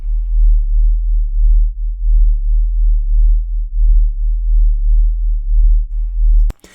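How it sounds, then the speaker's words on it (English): Three sine waves at different frequencies, layered in Audacity for an industrial-style soundscape, hum together as a steady low drone that pulses and beats as they interact, then cut off abruptly with a click. "So now we've got three different frequencies, different sine waves playing at the same time."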